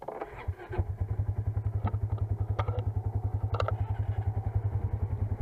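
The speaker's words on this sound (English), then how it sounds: "This is the third time I'm ever driving a side-by-side." A side-by-side UTV idles and then pulls away, its engine a loud, close, fast-pulsing chug with a steady rhythm and a few clanks and knocks on top, with no voices.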